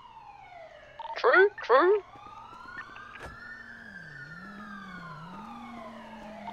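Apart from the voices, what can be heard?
many emergency sirens nearby in a video game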